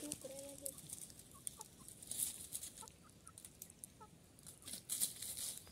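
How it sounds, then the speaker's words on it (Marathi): Hens on a village farm cluck and scratch around outdoors at around six in the evening after being let out. Soft, scattered clucks and faint scratching sounds sit over a low, quiet background. "कोंबड्या आहेत."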